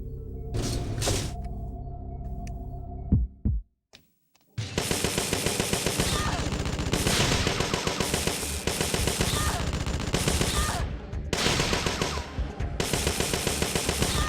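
Turret gunfire in the video game Parasite Eve II: after a low mechanical hum and a brief silence, dense, loud automatic fire erupts and continues in rapid sustained bursts with short breaks.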